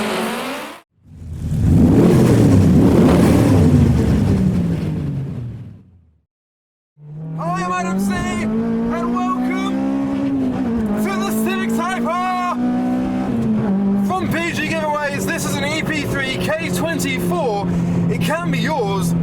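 An MR2 and a K24-swapped Honda Civic race, with a loud, close engine roar followed by a sharp cut. A second engine then revs hard through rising gears, with shouting voices over it.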